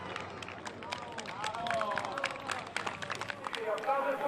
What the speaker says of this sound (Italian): l'applauso del pubblico anche per questo atleta che conclude la sua fatica